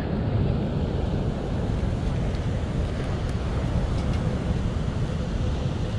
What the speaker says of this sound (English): These waves are gorgeous out here today.